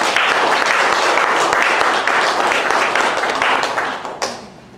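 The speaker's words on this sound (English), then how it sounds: "Why don't we give an applause of appreciation for all of the people that are working in our technology" A church congregation in Norwalk, California claps in a broad, steady round of applause that holds evenly, then tapers off with a few final claps as it fades out.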